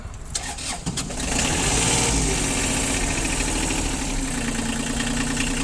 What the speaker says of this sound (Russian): Здесь, я думаю, слышно, что мотор работает очень и очень тихо.